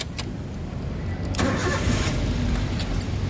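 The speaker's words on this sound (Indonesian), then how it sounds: "Oke, sekarang kita coba nyalakan mobil." A Daihatsu Terios 1.5 manual car engine cranks briefly and catches, then settles into a steady close idle with a low rumble and no voices.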